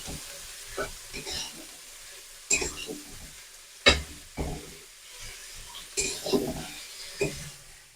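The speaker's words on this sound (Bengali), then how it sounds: "পটলটা দিয়ে আমি পটলের সাথে ভালোভাবে মিশিয়ে নেবো মশলাগুলোকে।" Fried pointed gourd stirred into cooked spice masala in a pan: intermittent scraping and stirring clatters with soft sizzling between, fairly close, in irregular bursts.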